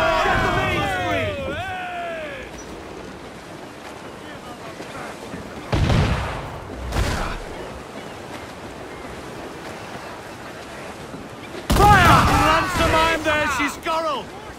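Naval cannons boom in a sea battle in the video game Assassin's Creed IV Black Flag, with two heavy blasts close together and another later, over a low wash of ocean and wind, with shouted voices before and after.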